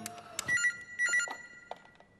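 A telephone rings in a Hindi crime drama scene with a few short, bright electronic trills, fairly faint and heard on their own.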